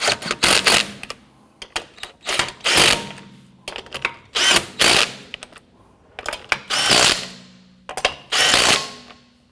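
Lug nuts being snugged down on the rear wheel of a 2017-2020 Hyundai Elantra, about eight close, loud bursts of ratcheting and impact-tool rattle in an uneven rhythm, separated by brief pauses.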